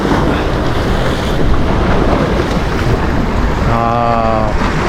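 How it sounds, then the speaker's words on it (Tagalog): Steady roar of sea waves and a fast, strong current with strong wind buffeting the microphone throughout, and a brief harmonic engine-like tone near the end. "hindi maganda yung agos ng dagat ayan o masyadong uh, mabilis yung current niya"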